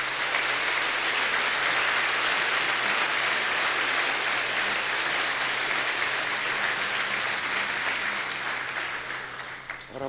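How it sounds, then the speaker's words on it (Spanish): Congregation in a church applauding after a reading, a steady, full burst of many hands clapping for about ten seconds before tapering off at the end, with no speech over it. "Y aplaudimos tu palabra, Señor."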